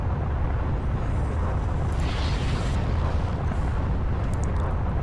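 Enemy ship firing missiles during a space dogfight in the Everspace video game, a dense continuous roar of rumbling blasts and engine noise, loud and steady with brief brighter bursts midway and no talk.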